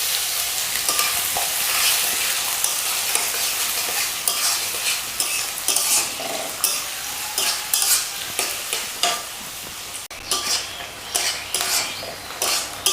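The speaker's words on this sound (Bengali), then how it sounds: "তো আমাদের পেঁয়াজটা কিন্তু একটু হালকা ভাজা হয়ে এসেছে।" Chopped onions with whole garam masala fry in a pan over a steady loud sizzle while a spoon stirs and scrapes repeatedly, with no talking.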